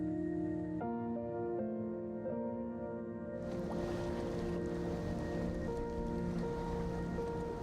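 Waves washing onto Tangalle Beach in Sri Lanka: a steady, soft hiss of surf that swells up partway through under sustained musical tones.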